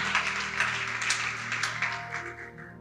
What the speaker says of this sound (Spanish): Pero apláudale fuerte